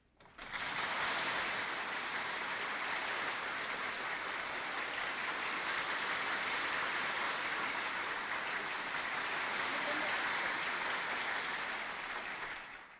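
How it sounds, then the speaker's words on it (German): A large crowd cheers and applauds at a 1955 Ethiopian coronation jubilee as the emperor appears on a balcony, a dense, continuous roar of clapping that holds steady, distant and slightly muffled, with no talk. "Jubelnder Beifall brauste auf"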